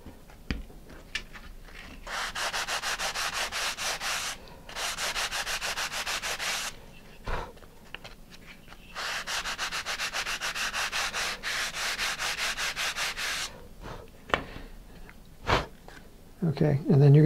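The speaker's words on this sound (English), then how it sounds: "I hold the balsa or the sanding block and kind of sand in a circular motion" Two long bursts of rhythmic, scratchy sanding on balsa wood with a sanding block, brisk strokes close by, separated by quieter pauses with a few soft knocks.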